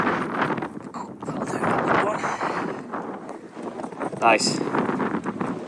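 Strong gusty wind on the Shetland Islands buffets the microphone in a continuous rumbling roar, with a brief spoken word partway through.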